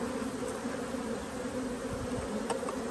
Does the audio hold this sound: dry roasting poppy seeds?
no